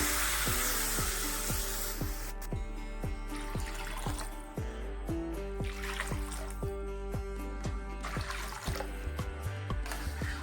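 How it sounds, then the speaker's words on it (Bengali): Four bowls of water are poured into basmati rice that has just been fried in a pot for saffron rice, a rushing splash at first that settles into trickling and bubbling under steady tonal background noise. "এই বাটি মেপেই আমি দিয়ে দেবো চার বাটি জল"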